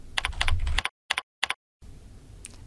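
Quick bursts of typing on a computer keyboard, close and crisp, several rapid keystrokes followed by two isolated taps with silent gaps between them.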